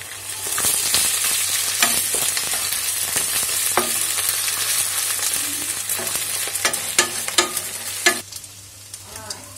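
Crushed ginger frying in a pan with onion and garlic, a continuous close sizzle broken by repeated scraping and tapping stirs, dying down near the end.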